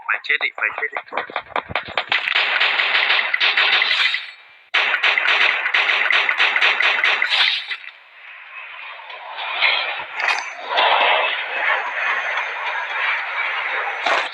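Rapid bursts of gunfire from a shooting video game, loud and dense with short pauses, followed by a hissing, rumbling stretch, with excited voices talking over the action.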